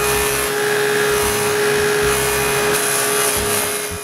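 A table saw with a dado set cutting rabbets into wood rails, a loud, steady whining drone with a constant tonal hum that tapers slightly at the end as the cut finishes.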